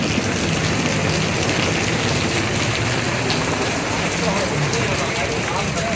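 Steady rain pours down in Karachi with running water, a dense, constant hiss that fills the scene from start to finish, loud and close, without any clear voices.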